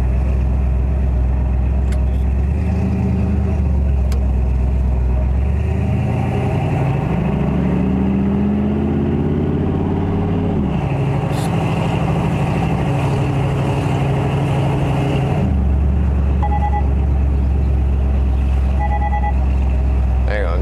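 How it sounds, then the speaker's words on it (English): A 1964 Chevrolet Impala engine, still cold, runs steadily and loudly with a squeaking belt, its pitch rising and falling as the engine revs up and settles back to idle. "It's probably still cold, got a little belt squeaking."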